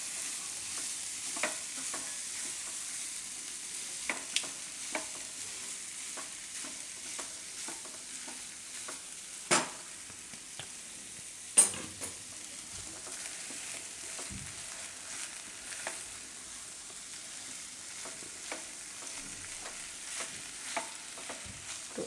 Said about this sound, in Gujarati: આમાં આપણે હવે આ ઘઉં નાખી દઈશું બાફેલા ને મિક્સ કરી લઈશું